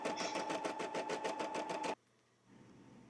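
An embroidery machine stitches a monogram onto a coffee cozy in a fast, even rhythmic whir that stops abruptly partway through, leaving a quiet low hum.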